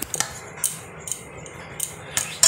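A utensil taps and scrapes against a bowl while ingredients for caramel bread pudding are mixed, sharp clinks recurring about every half second, close and alone.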